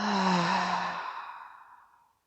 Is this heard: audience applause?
no